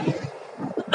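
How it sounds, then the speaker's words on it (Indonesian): A single short cough from a motorcyclist riding through a residential area, close to the microphone over low road and engine rumble. "maaf batuk."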